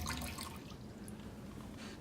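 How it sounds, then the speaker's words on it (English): A container being filled three-quarters full with cold water for a screen printing process, a steady splashing, trickling pour close by throughout, continuous and fairly loud with no talking. "I've got to fill this with cold water"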